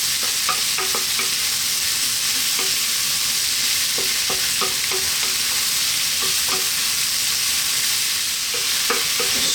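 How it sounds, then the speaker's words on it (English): Bean sprouts and tofu sizzle steadily in a hot pan during a stir fry. A constant loud frying hiss runs beneath scattered clicks and scrapes as the food is tossed around. "we're going to stir fry this around just for about another 2 to 3 minutes"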